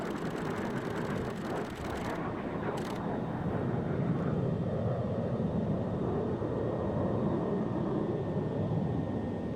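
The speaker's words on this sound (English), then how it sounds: "Well, the afterburners are on." An F-16 fighter jet with afterburners lit produces a steady, distant roar that rumbles evenly for nearly ten seconds. The sound is moderately faint, with no voices over it.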